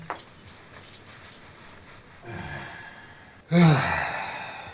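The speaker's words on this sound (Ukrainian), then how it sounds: "На згадку про нашу квартиру залишилися тільки ключі" Apartment keys jangle briefly in the hand, a light metallic rattle early on that is followed by a soft sigh and a louder breathy exhale near the end, with no speech.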